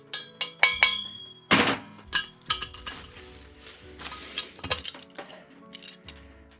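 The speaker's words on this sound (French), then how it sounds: "petit marteau" A small hammer knocks rivets out of the wheel hub of a 1980 Motobécane 51 moped, giving a string of sharp metallic clinks and dull thunks at an irregular pace, close and fairly loud, with no talking.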